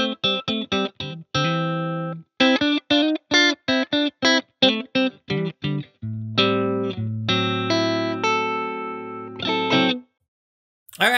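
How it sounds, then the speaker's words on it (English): A Fender American Professional II Stratocaster fitted with Righteous Sound High Road pickups, played through a Silktone amplifier, rings out in clean, bright plucked notes and strummed chords, with brief pauses and a final sustained chord. "I am running a Fender American Professional 2 Stratocaster with Righteous Sound High Road pickups in it."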